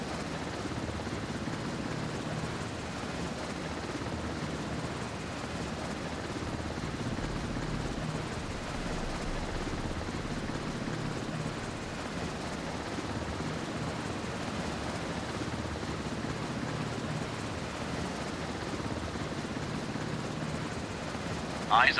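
An enemy helicopter in the naval combat game Warship Mobile 2 produces a continuous, moderately loud rotor and engine rumble, with a brief sharp sound at the very end.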